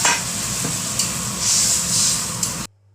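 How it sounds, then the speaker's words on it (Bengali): Water poured into a sizzling pan of hilsa fish curry: a loud hissing, steaming surge that swells and fades, then cuts off abruptly into silence. "পরিমাণ মতন জল দিয়ে দেবো"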